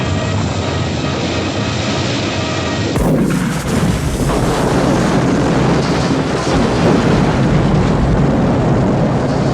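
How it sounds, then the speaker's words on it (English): A sudden loud explosion at a gas pump bursts in after a steady rumble, followed by a sustained roaring, crackling blast that fills the rest of the clip. "only for Judy and Tom to mess up and die in an explosion"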